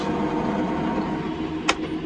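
A tractor engine runs steadily as it pulls out of a field, a continuous loud mid-low drone with one brief sharp click near the end.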